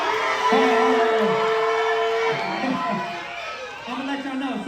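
Crowd at a youth breaking league battle cheering and whooping, a loud mix of shouts and voices with a sustained whistle-like tone early on, continuous throughout with talk mixed in.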